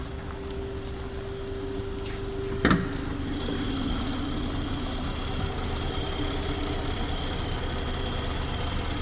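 A 2021 BMW 7 Series engine idles with the hood open, a steady even hum running throughout with one sharp brief burst early on.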